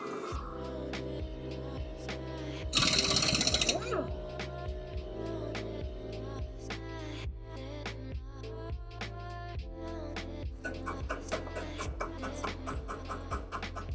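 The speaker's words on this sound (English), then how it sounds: "I'm going to wire brush it before putting it back in and oil it a little bit too" A rear suspension bolt from a Mazda Protege is wire brushed close up. A humming motor drone carries rapid, rhythmic scraping ticks, with a brief harsh burst of bristle noise early on.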